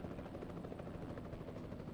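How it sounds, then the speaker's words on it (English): A helicopter in Euro Truck Simulator 2 thrums steadily close by, a dense, continuous rotor roar at even loudness with no talk over it. "I was scared I was going to hit the blade of that helicopter"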